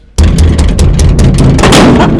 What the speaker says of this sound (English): You want to break down that gate? Knock like a human being now. Why are you banging?